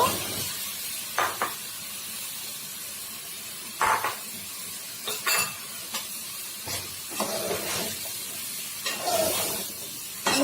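Radish pieces stirred in a hot pan with rohu fish head, sizzling and frying steadily with repeated scraping stirs of the spatula at close range, no talking.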